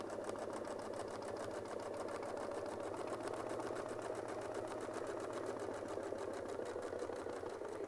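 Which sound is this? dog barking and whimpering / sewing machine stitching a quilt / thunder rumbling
sewing machine stitching a quilt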